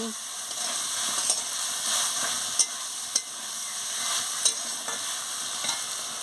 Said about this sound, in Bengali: এবার আমি হলুদের গুঁড়ো দিয়ে দিচ্ছি। দিয়ে ভালো করে নাড়াচ্ছি।